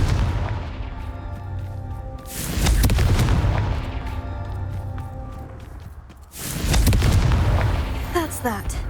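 Confringo blasting spell explosions in Hogwarts Legacy, two loud booming bursts a few seconds apart over a steady game background with tonal music, each swelling and fading, with faint steps between.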